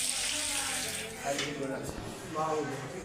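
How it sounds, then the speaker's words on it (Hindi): Water runs and splashes steadily as a temple floor is washed at night, a faint, continuous wash with voices murmuring in the background. "इसीलिए मंदिर को धोया जा रहा है"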